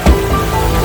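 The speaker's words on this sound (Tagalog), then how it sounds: "Grabe ulan." Heavy typhoon rain roars in a loud, dense wash close by, a steady broadband downpour with a brief stronger surge near the start and no voices.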